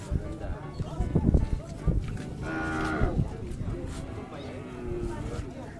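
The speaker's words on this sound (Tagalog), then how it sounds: "Babaeng kalabaw po" A female carabao, or water buffalo, lets out a long, loud low moo close by. People talk over and around the call, and there is a faint clopping of hooves.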